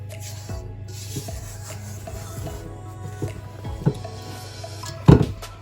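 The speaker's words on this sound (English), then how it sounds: "I'm going to fold this in with a spatula super gently" A spatula gently folds flour into cake batter for a buttercream flower cake, making soft rubbing scrapes over a steady low hum, with a louder knock near the end.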